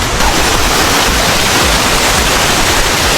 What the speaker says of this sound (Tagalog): Nature ang maririnig mo. Puno ng ibon, agos ng tubig.